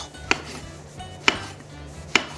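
Three sharp knife strokes through shiitake mushrooms on a cutting board, spaced roughly a second apart, close and crisp against a low steady background hum.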